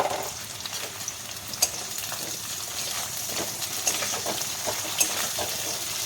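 Cauliflower florets and new potatoes frying in a pan of oil, a steady close sizzle and bubbling hiss with occasional sharper crackles and pops throughout.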